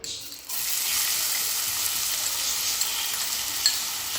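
Finely chopped onion dropped into hot oil in a pan, a sudden hiss that settles into a steady bright sizzle with faint stirring, close and continuous.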